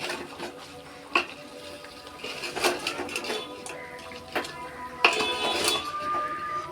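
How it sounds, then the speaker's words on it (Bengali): A utensil scrapes and stirs raw mango pickle in a pan, with a soft sizzle and several sharper clinks of metal against the pan at irregular moments. "এটা নাড়তেই থাকবো, তাহলে তলায় ধরে যেতে পারে।"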